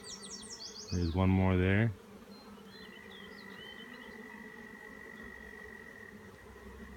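Honey bees buzz steadily around a hive frame during a colony inspection, a soft continuous hum throughout; a voice speaks briefly near the start, joined by a short louder burst.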